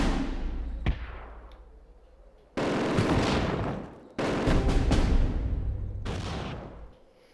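Artillery guns fire in the Steel Division WW2 strategy game: a sharp distant shot, then three heavy booming salvos with rumbling decay, loud and without talk.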